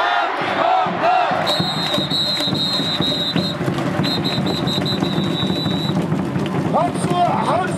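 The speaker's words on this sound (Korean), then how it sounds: "박수와 함성!" Baseball stadium crowd at an SSG Landers opening game, a dense loud roar of cheering and shouting with rhythmic clapping and whistles throughout, a voice calling over it.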